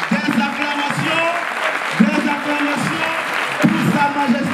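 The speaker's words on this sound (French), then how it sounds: "Pour ça, je nous demanderai de nous tenir debout pour une standing ovation à Sa Majesté le roi Mohamed VI." Audience applause as a large crowd gives a standing ovation during a ceremony in Casablanca ahead of the Africa Cup of Nations, a dense, continuous clapping that carries loudly through the whole stretch.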